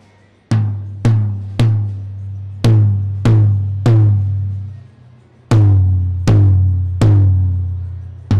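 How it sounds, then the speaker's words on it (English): A Mapex drum without the Sonic Clear Edge, played at a Musik Messe Frankfurt trade-show demo, is struck ten times in irregular groups, each hit loud and close with a short, punchy decay; no talking. "This drum here on the left, on my left, is a drum that does not have the Sonic Clear Edge on it."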